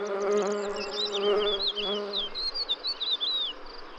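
Bee buzzing in a spring European meadow, a steady close insect drone with harmonic hum running throughout, while birds chirp and tweet brightly overhead.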